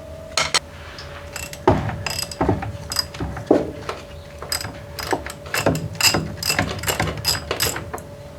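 Ratchet spanner undoing the inner radius arm bolt on the rear subframe of a car on a rollover jig, giving repeated short bursts of clicking with pauses between them, alongside a steady background hum.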